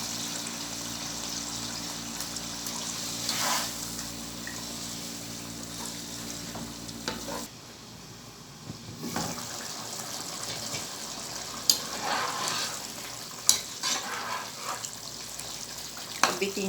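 Chicken korma cooking in a pan after yogurt and a bowl of water are added, giving a steady bubbling sizzle with occasional stirring clinks and scrapes, fairly close, with no talking.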